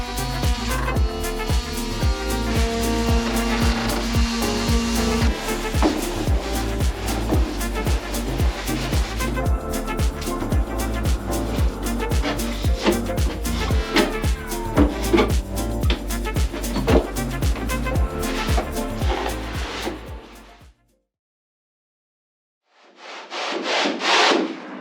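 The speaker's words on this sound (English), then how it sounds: "they needed to be sanded and prepped before I could get any fairing compound on them" Cabinet surfaces on a sailboat being sanded before fairing compound, a loud continuous rubbing and grinding drone for about twenty seconds that stops abruptly, followed after a brief silence by a short burst of hiss.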